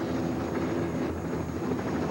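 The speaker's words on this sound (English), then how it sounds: "Hey, what's that? It's a helicopter." A helicopter drones overhead in a continuous, steady low rotor and engine rumble, fairly distant and muffled, with no voices over it.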